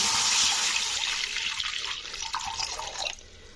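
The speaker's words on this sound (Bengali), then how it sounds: "পেঁপেটা সেদ্ধ করার জন্য যতটুকু জলের প্রয়োজন আমি সেইটুকুই জলটা দিলাম" Water poured from a vessel into a pot on a lit stove to boil papaya, a steady close splashing gush that thins toward the end, with no talking.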